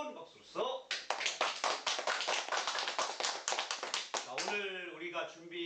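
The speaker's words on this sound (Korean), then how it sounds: "뜨거운 박수로서" Audience at a Korean poetry and song talk show bursts into warm applause, a dense run of claps lasting several seconds before fading as an announcer's voice resumes.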